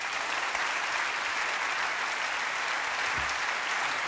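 A studio audience at a comedy show applauds to welcome comedian Markus Barth, steady and full-bodied clapping holding at an even level throughout.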